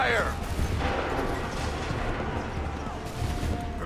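Musket volley in the video game Assassin's Creed III, heard as a burst of overlapping gunshots at the start, then a rolling rumble that decays under battlefield ambience.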